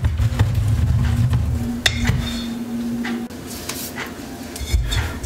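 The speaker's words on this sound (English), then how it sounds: "Right, so just stir it all together." Cornstarch slime mixture being stirred in a bowl, giving close, continuous scraping and clinking of the utensil against the container, with a few sharp knocks along the way.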